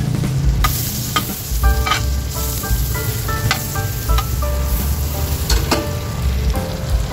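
Butter and oil sizzle steadily in a pan while being stirred, a continuous close frying hiss with scraping stir sounds and light clinks throughout.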